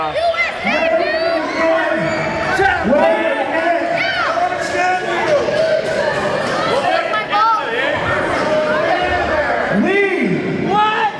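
A hostile crowd at a gym wrestling show jeers and shouts continuously, with loud individual yells and whoops rising above a dense babble of voices.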